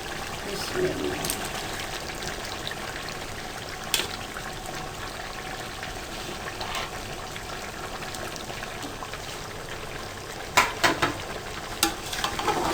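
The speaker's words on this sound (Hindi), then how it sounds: "अच्छी तरह से मिक्स करें और तेज़ आंच पर ही आपने अब टमाटर के साथ इसको भून लेना है।" Tomatoes and chicken masala frying over high heat while being stirred, a steady low sizzle with scraping and clinks of the spoon, plus a few sharper knocks near the end.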